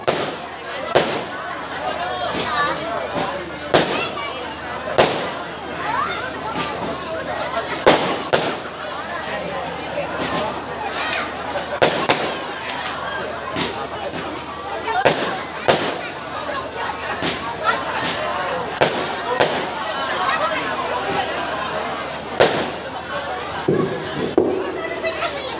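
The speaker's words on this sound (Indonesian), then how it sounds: "Petasan hiji bae, petasan hiji bae." Firecrackers going off at a Sundanese gathering marking 1 Muharram in Pandeglang: sharp scattered bangs, some near and some distant, repeating irregularly over crowd chatter and children playing.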